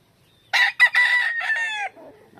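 A broodcock rooster crows once, close and loud, a rising call broken into short bursts that ends in a trailing, fading note.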